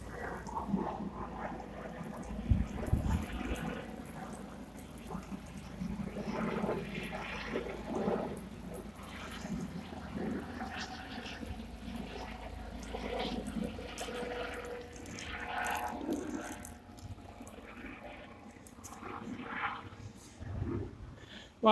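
Water pours steadily from a can onto plants at an allotment plot, a soft continuous splashing and trickling that runs faint and even for the whole stretch.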